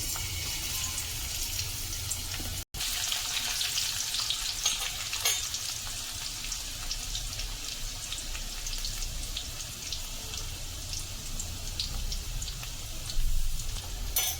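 Garlic frying in oil for a Maharashtrian clam sukka, a continuous close hiss and crackle like light rain that holds steady, with a brief dropout early on and a slight swell near the end.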